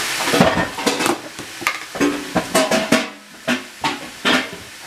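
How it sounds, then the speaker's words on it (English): Chicken thighs searing in a huge pan, a continuous sizzle broken by repeated sharp scrapes and stirring clatters, close and fairly loud, with no talking. "So you guys are gonna let this cook, let this pan sear."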